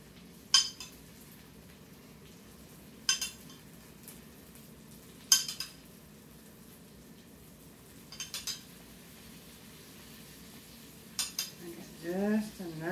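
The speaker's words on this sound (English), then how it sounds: "Here's that hot pan just a sizzling." Butter biscuits sizzle faintly in a hot pan under melted butter, a soft steady hiss broken by several sharp, close metallic clinks of utensils at irregular intervals.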